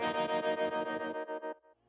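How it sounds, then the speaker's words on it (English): A guitar runs through an EC300 tape delay set to a tiny tape mode, giving a pulsing, repeated sixteenth-note echo. The pulses fade out over about a second and a half, with no voice. "let me take that reverb away and show you the delay that I have going on. EC300 from DSP. It's set to tiny tape"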